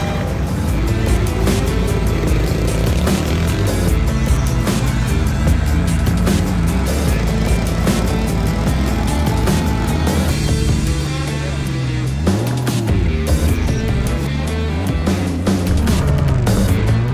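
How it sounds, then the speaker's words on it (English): A BMW drift car at a Formula Drift event in Orlando roars continuously with loud, close engine revving and bouncing rev changes, a dense wall of motor noise throughout. "This gentleman is ready to make some noise here in this royal purple O'Reilly Auto Parts It is a BMW"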